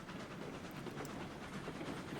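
A freight train engine in the game Railroads Online labors up a grade hauling a long string of cars, giving off a low, steady rumble heard faintly and continuously throughout.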